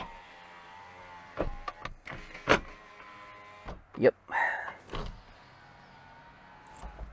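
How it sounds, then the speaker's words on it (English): The power windows of a 2006-2011 Honda Civic sedan with worn window belt molding seals whir down in several short motor bursts, fairly close, with a brief spoken word in between. "Roll all your windows down. You see how bad that sounds."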